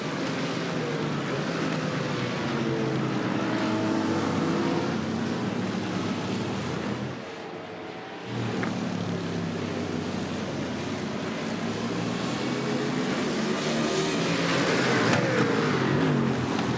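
BMW Z4 GT3 race cars lap the Nürburgring in a sim racing game, their engines a constant loud roar with rising and falling pitch and a brief dip midway.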